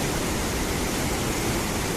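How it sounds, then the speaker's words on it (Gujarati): The Ambika River in flood in a South Gujarat village during the rainy season, a loud, dense, unbroken roar of rushing water filling the whole clip without any voices. "આ છે અમારા ગામની અંબિકા નદી."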